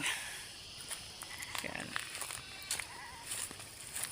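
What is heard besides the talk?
goats bleating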